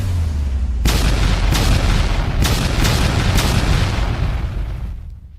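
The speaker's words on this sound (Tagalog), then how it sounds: "sunod-sunod na malalakas na pagsabog ang pumaligid kay Jiang Yi, nyanig ang buong arena" A series of loud explosion sound effects booms in quick succession, four or five heavy blasts over a rumbling, sustained roar that fades away at the end.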